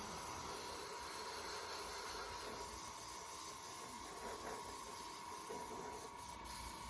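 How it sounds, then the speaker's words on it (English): Badger Velocity double-action airbrush spraying paint, a steady, even hiss of air and atomized paint held close and constant throughout, with no talk over it. "I'm using a double action airbrush here. In case you're wondering, this is a Badger Velocity gun"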